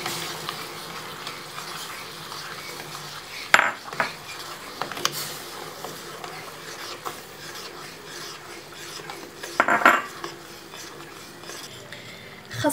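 A sugar and pectin mixture is stirred in a pot on the stove, with soft scraping and rubbing, and occasional sharper clinks of a utensil against the pot over quiet kitchen ambience.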